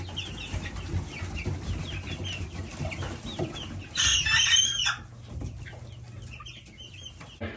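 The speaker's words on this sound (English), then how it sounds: "So you can't see him crow because I wasn't aimed at him, unfortunately. But you can hear it." A bantam rooster crows once, a bright burst standing out over a background of farmyard clucking and ambient noise, heard from a short distance.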